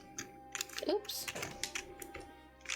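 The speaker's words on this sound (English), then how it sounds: "we're just going to type all of this in and then hit the OK button" Quick, irregular clicks of typing on a computer keyboard, close and fairly quiet, with a person briefly speaking over the keystrokes.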